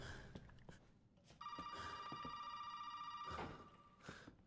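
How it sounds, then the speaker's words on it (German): A telephone rings in the Resident Evil 7 video game, a steady electronic bell tone holding for about two seconds, loud and alone after scattered faint game noises. "Guck mal, kaum klingelt das Telefon schon"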